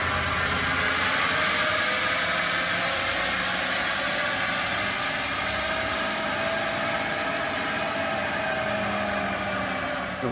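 A 2023-2025 Powerstroke diesel with a Whirly custom-fabricated intake runs with a steady, loud, broadband turbo rush and hiss that holds an even level throughout, with no talking.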